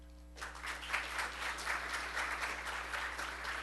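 An audience applauds the candidates at a federal election debate held at Vanier College. The clapping is a steady, dense roar that rises after a brief pause and holds at a moderate level, over a low electrical hum.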